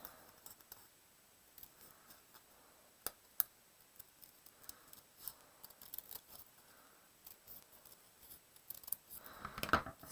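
Scissors snipping through paper to cut shapes for a notan design, a run of short, crisp, close cuts with brief pauses between them and no talking.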